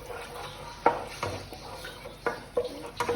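Tomato paste frying in oil in a pot for Iraqi kabsa: a spoon stirs and scrapes with a series of sharp clinks against the pan over a steady soft sizzle, close and moderately loud.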